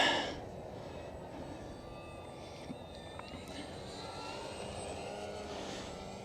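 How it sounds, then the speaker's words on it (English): A diving airplane's engine drones steadily throughout, a continuous moderate hum with no speech over it. "Quite hard to trim out a plane that's diving."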